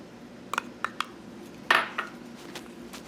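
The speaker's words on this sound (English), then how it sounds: "So just whisk that in." A utensil clinks against a bowl while dressing is whisked: a few light metallic taps, then one louder scraping clatter and a faint final tick, close and otherwise quiet.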